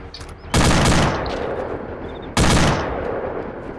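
Two loud, close bursts of automatic gunfire from the video game Arma 2, each lasting about half a second, separated by a quieter stretch of lingering echo and background game noise.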